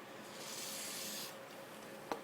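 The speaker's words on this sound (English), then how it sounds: "just spray it on the inside of your O-rings" Chain lube sprayed onto a motorcycle chain in a steady aerosol hiss lasting over a second, then fading, followed by a single sharp click.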